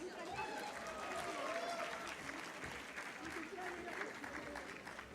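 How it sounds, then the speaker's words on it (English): A live audience at a Rotary stage event gives sustained applause, a steady wash of clapping with crowd noise that stays fairly faint and distant throughout. "let's acknowledge Zone North with a warm, resounding applause"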